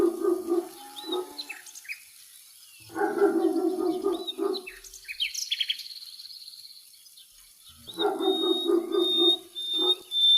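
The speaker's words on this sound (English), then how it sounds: "Dog." A dog barks in three separate bursts of rapid, repeated barks spread a few seconds apart, with chirping birds and insects faint in the background between them.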